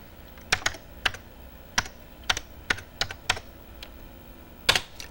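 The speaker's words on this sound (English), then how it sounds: "And I'll just type in graphic text." Typing on a computer keyboard while naming a file: a string of about a dozen sharp, close plastic key clicks in irregular bursts, fairly loud over a quiet room, with no speech.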